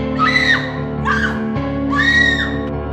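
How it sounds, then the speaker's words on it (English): A girl lets out piercing high-pitched screams in a horror setting, three rising and falling shrieks close and loud over a steady low hum. "I heard her high-pitched scream for a fraction of a second before her voice was cut off"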